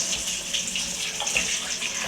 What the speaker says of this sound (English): we'll rinse with running water